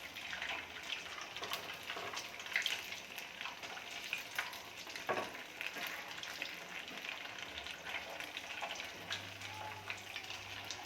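Sabudana vada fry in oil in a pan over low heat, giving a soft, steady sizzle and crackle throughout with occasional light scraping as the patties are turned.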